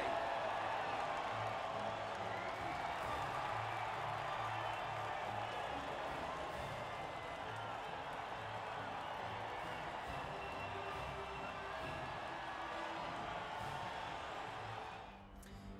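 Crowd cheering at the podium after an Alfa Romeo win at Malaysia in the F1 1998 video game, a steady, dense roar of many voices holding at an even level before dropping away near the end.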